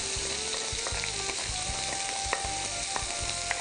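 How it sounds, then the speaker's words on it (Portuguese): Chopped onion and garlic sauté in olive oil for a pumpkin soup, giving a steady sizzle with rhythmic stirring and scraping in the pan, close and fairly quiet. "Deixa refogar até dar aquela amolecidinha."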